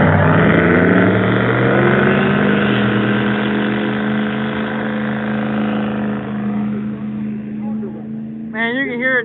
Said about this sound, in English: you can hear it just staying at RPM way out there, and then it finally gets into boost